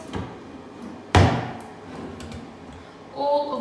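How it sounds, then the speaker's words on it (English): White laminate drawers pushed shut and slid open during a rental inspection, one sharp close knock near the start followed by lighter sliding and rattling, close by and alone. "All of the drawers are in a very clean condition and are opening and closing correctly"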